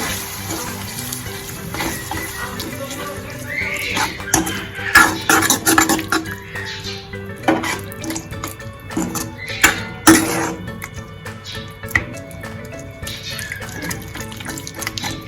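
Crushed bottle gourd is tipped into a pan for a doodhi shaak and stirred in, with a spoon clinking and scraping against the metal in irregular bursts, some sharper knocks, and a soft wet background.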